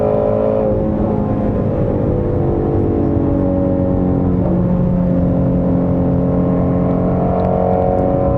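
A 2017 Ford Shelby Mustang GT350R engine heard from inside while driving, loud and continuous with rising and falling revs through the gears, no talk.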